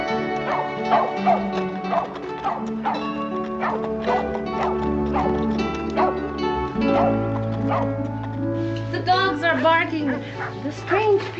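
A dog barks repeatedly in a Western ranch setting, sharp yips and bow-wows coming in quick bursts at close range, mixed with whimpering, over a musical score and with people talking.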